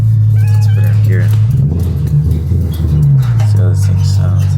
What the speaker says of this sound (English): I need to hear how the exhaust sounds and let this thing warm up